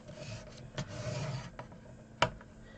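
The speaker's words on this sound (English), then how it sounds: "just turn it round and score at 1/2 inch" A small hand scoring tool drags along a craft board for a gift box, giving a soft, close rasping scrape with a few brief sharper clicks and scratches between strokes.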